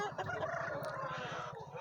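Rooster at a livestock market crowing close by, a short sustained call over low, continuous crowd murmur and market bustle.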